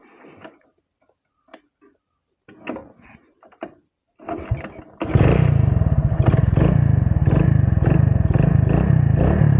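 Hero Splendor motorcycle fitted with new handle grips, with a few clicks and knocks before the engine fires and settles into a loud, steady, close idle with rapid even pulsing that continues to the end.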